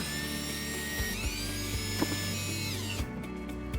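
A power tool drives a 7mm fastener during a trailer hitch install on a 2013-2019 Cadillac ATS, with a steady whirring motor, several pitch shifts and clicks, stopping near the end.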